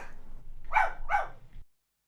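A puppy gives two quick, loud barks in a row, close by, and then the sound cuts off into silence, with no voices.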